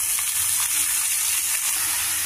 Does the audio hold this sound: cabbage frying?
yes